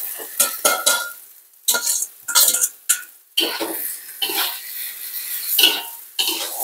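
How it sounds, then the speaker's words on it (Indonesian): Scallions and ground spice paste are sautéed in a pan, heard as sizzling frying broken by bursts of a utensil scraping and clattering against the metal, close and fairly loud. "Ini bumbunya aku mau tumis dulu, ini daun bawang"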